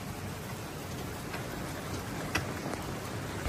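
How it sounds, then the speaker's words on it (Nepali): Heavy rain patters steadily on the outside of a parked bus, a dense even hiss of drops with a few sharper ticks, heard from inside with no one talking. "यस्तरी पानी परेको है"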